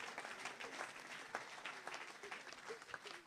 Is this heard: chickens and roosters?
no